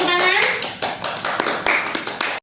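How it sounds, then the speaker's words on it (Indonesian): A classroom of children gives a short burst of applause, quick scattered hand claps and taps over a teacher's voice, which soon thins out into a few claps. "Nah, beri tepuk tangan."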